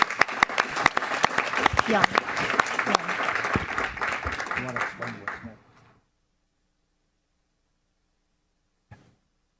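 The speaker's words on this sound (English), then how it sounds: "let's give our panel a round of applause" An audience at a county government meeting claps and applauds loudly for several seconds, then it stops abruptly into silence, with one brief spoken word near the start.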